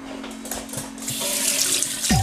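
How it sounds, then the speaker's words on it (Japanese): Tap water runs steadily from a faucet as a dog's feet are washed after a walk, a close, continuous splashing stream with no talking. "そんなナナは散歩から帰ると必ず足を洗います。"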